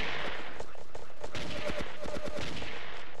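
Rapid gunfire in the blocky multiplayer shooter Ace of Spades, bursts of shots cracking in quick succession over a hiss of game noise, loudest in the second half.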